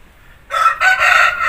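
An Aseel rooster, a top-class fighting breed, crows close by after a half-second of quiet, a loud strained call with a brief catch midway and no talk over it.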